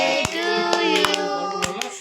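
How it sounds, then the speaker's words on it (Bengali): Hands clap at a birthday celebration, about six sharp, irregular claps ringing out over a steady sustained tonal backdrop, close and fairly loud for two seconds. "হাততালি করো"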